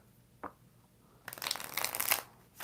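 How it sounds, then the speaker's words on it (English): Tarot cards are shuffled by hand, starting with a single soft tap and then a dense, crisp riffling burst of about a second, close and fairly quiet. "2 more shuffles."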